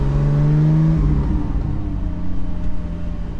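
A Porsche 718 GT4 fitted with a Soul Performance exhaust rear section pulls hard, its engine note loud and close, surging strongly at first and then settling into a steady, rumbling drone.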